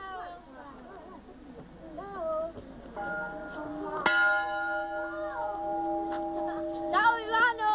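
A bell rings with a clear, sustained tone that fades slowly, struck again near the end, while a voice chatters around it.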